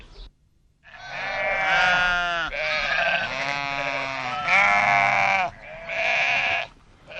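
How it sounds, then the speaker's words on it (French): Sheep and goats from a large nomadic flock in the high Atlas Mountains bleat loudly and close by, several overlapping calls in a few long sustained bursts after a brief quiet opening. "J'exploite 1000 brebis, 100 chèvres"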